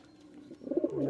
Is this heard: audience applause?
no